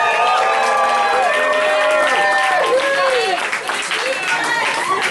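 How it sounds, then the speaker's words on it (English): An awards-night crowd applauds and cheers as Boomer is introduced, dense clapping running throughout with whoops and excited voices layered on top. "Round of applause to none other than Boomer."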